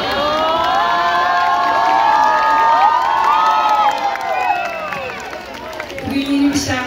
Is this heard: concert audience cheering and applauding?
yes